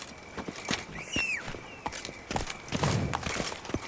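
Hoofbeats of Roach, Geralt's horse in The Witcher 3: Wild Hunt, clopping in a steady trotting rhythm close by, with faint ambient noise and a brief tonal chirp in the background.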